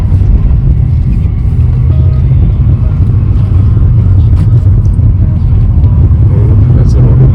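A 2004 Pontiac GTO pulls hard on blacktop, its engine a loud, unbroken low rumble heard from inside the car, with a voice talking over the drone.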